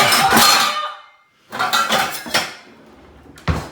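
Metal pots and pans clatter and clank in bursts as a frying pan is pulled out, loud and close, with pauses between the rummaging.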